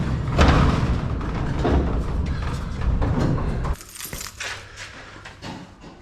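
Doors on a 2015 Ram 2500 pickup truck are shut in a series of close, solid thuds and clunks, four or so in quick succession, followed by quieter rattling.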